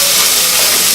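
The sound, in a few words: shallots sweating and sizzling in a pan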